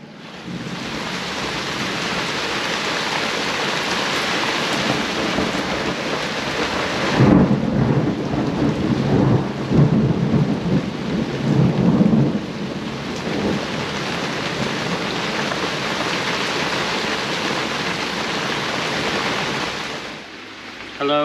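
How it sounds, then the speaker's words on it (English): Heavy rain pours steadily at Nelson Bay, Port Stephens, New South Wales, aboard a sailboat, while a loud thunder rumble rolls through the middle, a dense continuous wash without talk. "Very rainy day. This is our second day of storms."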